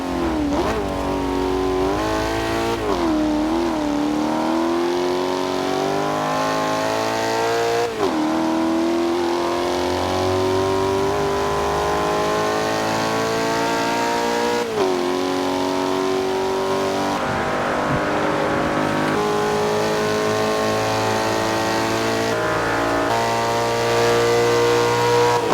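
A Maserati GranTurismo 4.7-litre V8 engine in Forza Horizon 2 revs and climbs through several gears, its deep growl rising and dropping with each shift, loud and continuous.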